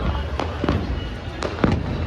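Firecrackers burst during the Diwali season, several sharp cracks and pops scattered over a dense, continuous background of distant festive explosions.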